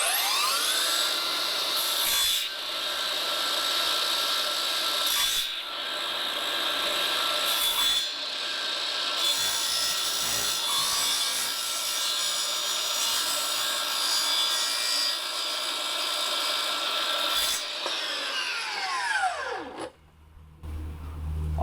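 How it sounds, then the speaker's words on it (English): A miter saw blade drops into skirting board and holds a long, steady, loud whine as it cuts along a line, then spins down to quiet near the end. "I'm going to drop the miter saw blade in, and we're going to cut along that line all the way to the top there"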